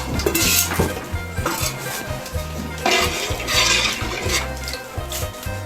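Clattering pots and utensils with water sloshing and splashing into a pot while making khao tom in Muang Xay, Oudomxay, Laos, busy kitchen noise throughout.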